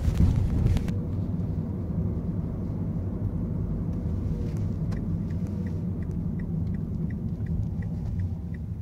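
A car driving on a road with a Mobileye 560 collision avoidance system fitted, giving a steady low rumble of engine and tyre noise throughout, with a faint repeated chime in the background near the end.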